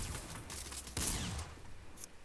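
Fortnite gunfire aimed at the floor, with a few fairly quiet sharp shots, a stronger crack near the middle, and a short burst at the end, heard at some distance.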